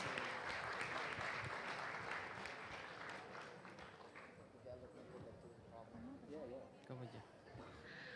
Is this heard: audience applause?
yes